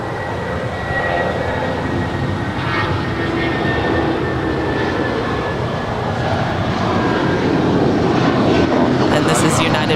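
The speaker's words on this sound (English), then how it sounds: "this is United Flight 1029 off to Denver. It's a 757-200." A United Boeing 757-200 taking off at LAX gives a loud, sustained jet engine roar that swells slightly toward the end, with a faint high whine over the rumble.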